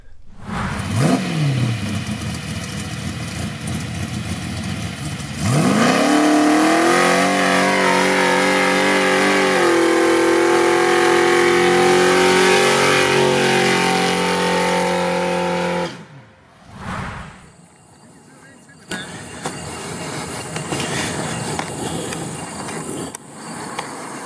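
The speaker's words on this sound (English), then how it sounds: "let's get out here and do some burnouts. Test out this line lock." A Chevrolet S10 truck with a 400 small-block V8 does burnouts, the engine revving hard and holding a loud, sustained high-rpm roar for about ten seconds before cutting off, followed by quieter idling and rumble.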